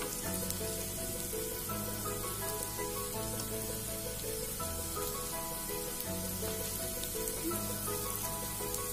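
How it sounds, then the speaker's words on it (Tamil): Drumstick (murungakkai) pieces frying in a pan over a low flame, a dense unbroken sizzle and crackle running throughout beneath steady background music. "நல்லா ஃப்ரை பண்ணி எடுக்க போகிறேன்"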